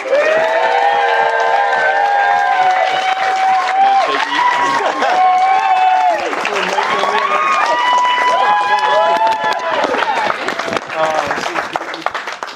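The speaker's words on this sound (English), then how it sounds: "please give a massive cheer to my best man, Miggy." Guests at a Scottish wedding reception cheer, shout and applaud for the best man, a loud, continuous burst of clapping and raised voices that stays strong for the whole stretch before tapering slightly.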